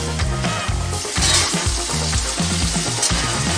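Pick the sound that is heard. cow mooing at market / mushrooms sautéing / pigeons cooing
mushrooms sautéing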